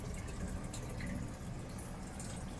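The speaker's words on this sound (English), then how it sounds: "We're almost there, just a little bit more water." An aquarium being refilled with water during a water change, a faint, continuous hiss of running and pouring water with a steady wash of noise throughout and no voices.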